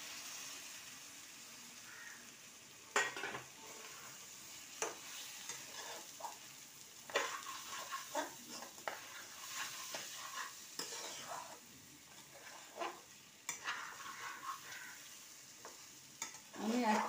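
Spices such as turmeric and chili powder fry in a pan for a chicken, egg and prawn khichuri, a soft steady sizzle broken by repeated scraping spoon strokes as the mix is stirred, close and fairly quiet.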